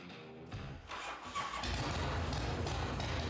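A Harley-Davidson FXR motorcycle with a rubber-mounted engine cranks and fires up after half a second of quiet, then settles into a loud, steady close-range rumble.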